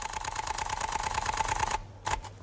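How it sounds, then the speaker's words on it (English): A rapid burst of shutter clicks from an Olympus OM-D E-M5 camera at 9 frames per second, evenly spaced and fast, running for nearly two seconds before stopping, then one short follow-up burst. "Yeah, you just keep holding that shutter down. So that's what 9 frames per second sounds like."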